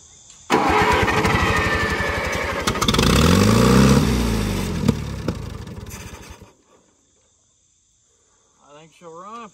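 A 1945 Allis-Chalmers WD tractor engine cranks and catches, loud and close, with a rising, revving churn for several seconds before it cuts out to near silence, followed by a brief chirp at the end.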